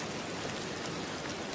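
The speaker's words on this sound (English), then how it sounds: "Only the rain remained." Steady rain falls in an unbroken, even hiss, close and fairly loud, with no voices or other sounds.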